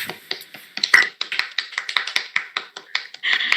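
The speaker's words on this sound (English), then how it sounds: "The audience begins to clap." An audience at a sketch comedy showcase claps in sharp, distinct claps that come in an uneven run and build into denser clapping near the end, up close and without talk.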